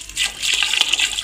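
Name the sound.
water poured off while washing sago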